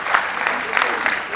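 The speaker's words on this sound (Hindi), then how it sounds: "एक बार ताली बजाकर हमको आदेश करिए" Steady applause from the audience at a Hindi poetry recital by a poet, a dense wash of clapping with faint rhythmic pulses, loud and close, with murmuring voices underneath.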